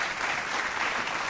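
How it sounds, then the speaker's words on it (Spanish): A short burst of audience applause, fairly quiet and evenly dense throughout. "Un fuerte aplauso para él."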